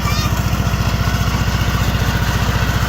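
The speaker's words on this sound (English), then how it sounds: "this lawnmower, when both of us are on it, I literally drive through trees and everything" A riding lawn mower engine runs hard while carrying two riders off-road on a mountain, through trees, on underinflated tires. Its loud, close, steady rhythmic chugging drone never lets up.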